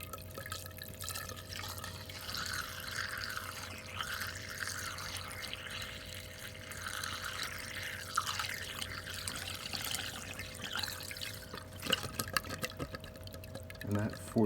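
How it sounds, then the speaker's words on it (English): Water poured from a bottle into an air conditioner's condensate drain, a steady faint trickling and splashing with occasional drips and gurgles under a low background hum. "that forces water through that drain, whatever's left, into the pan."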